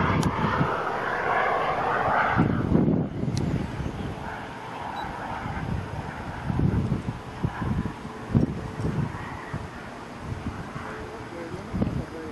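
An airplane's engine drones steadily as the aircraft comes in low and slow in a light crosswind, heard outdoors with gusting wind noise on the microphone and a person talking over it.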